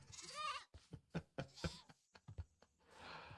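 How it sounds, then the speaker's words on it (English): In the video game Behind Arcadia, a goat bleat opens, then scattered clicks and knocks, with another rough bleating cry near the end; sounds are quiet and nearby, two goats in a boat. "I've got two goats in a boat."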